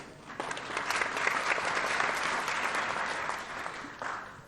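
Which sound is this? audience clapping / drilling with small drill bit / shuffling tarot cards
audience clapping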